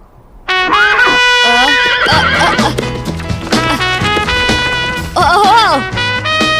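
Loud cartoon horse neighs and whinnies, several long shrill calls close up, with clip-clop hooves and brief bits of animated dialogue between them.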